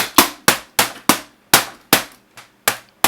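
An old liquid crystal computer monitor is smashed apart with about nine sharp, loud impacts in an irregular rhythm, each a hard crack or clang that fades quickly, with no talking.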